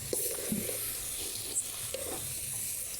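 Rice tipped into a hot pot of oil for shahi polao, giving a soft sizzle and hiss with a few stirring scrapes and clinks, close and fairly quiet, no talking.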